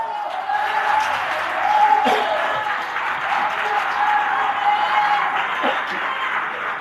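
A church congregation claps steadily, sustained applause from many hands filling the room, with faint voices mixed in.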